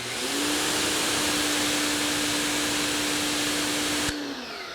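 A Westforce 3000 psi electric pressure washer runs steadily with a loud, continuous motor whine and hissing spray, then cuts off abruptly near the end.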